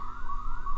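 An electronic alarm siren wails steadily in an asylum setting within an audio roleplay, a rising and falling tone sounding alone and fairly loud before cutting off abruptly.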